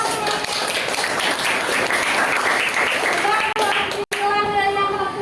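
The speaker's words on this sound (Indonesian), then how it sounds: "Tepuk tangan." Applause fills a classroom after a student presentation, a dense sustained wash of many hands clapping for several seconds, breaking off briefly before a voice and more clapping continue.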